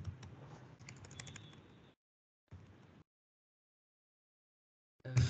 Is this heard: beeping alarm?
no